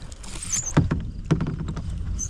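Irregular heavy thumps and splashy knocks of a large fish thrashing against a small boat hull on a lake, close by, with a jumble of smaller rattles in between.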